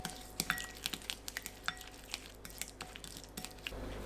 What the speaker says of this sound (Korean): 다진 마늘 반큰술, 고춧가루 반큰술, 된장 1큰술, 고추장 반큰술, 참기름 1큰술, 매실청 1큰술, 깨 1큰술 섞어주세요.